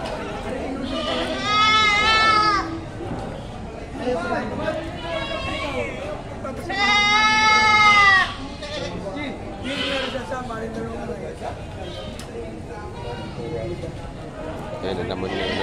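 Goats bleat loudly at a livestock market in Padre Garcia, with two long quavering calls standing out over a busy crowd and people talking throughout.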